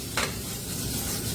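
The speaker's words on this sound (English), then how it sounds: "We have red bell peppers, which we're gonna throw those in now, which that sizzle is exactly what you're looking for." Red bell peppers sizzle in a hot pan with a steady frying hiss, and a quick scrape of stirring comes near the start, close up and with no voices.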